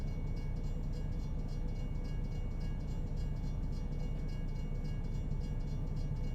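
A train in American Truck Simulator rumbles steadily with a dense, continuous low roar and faint rail clatter, with no voices over it.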